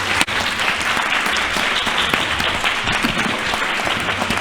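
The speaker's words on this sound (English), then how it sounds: "Big round of applause." An audience at a City Hall Trans Awareness Week event claps after a panel discussion, producing a full, steady round of applause from many people that carries through the whole moment.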